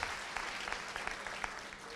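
A stand-up comedy audience claps in a steady, dense burst of applause, filling the room at an even level for the short stretch, with no voice over it.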